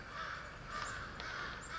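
Crows caw repeatedly in the distance below a farm during a hunt, harsh calls that overlap and rise and fall against a steady outdoor background hiss.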